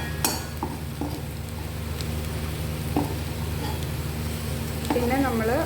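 Chicken stir-fried with sautéed vegetables in a pan for homemade chicken fried rice gives a steady, close sizzle, with a few light utensil clinks and a brief voice near the end.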